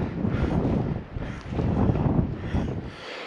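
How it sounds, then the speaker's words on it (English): Strong wind gusting across the microphone on the exposed coastal headland at Anvil Point, a rough low rumble that swells and eases in waves, loud and close, with no voices. "Certainly a bit windy up here."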